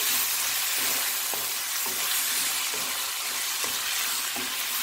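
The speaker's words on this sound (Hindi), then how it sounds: "अब ये अनियन हमारे थोड़े से लूज हो गए तो इसमें हम टमाटर डाल देंगे। अब इसको हल्का सा फ्राई करेंगे।" Onions and tomatoes fry in oil in a pan while making bhindi masala, giving a loud continuous sizzle with faint periodic scraping from stirring, no talking.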